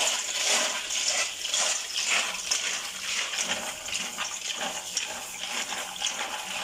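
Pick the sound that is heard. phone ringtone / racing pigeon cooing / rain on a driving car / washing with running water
washing with running water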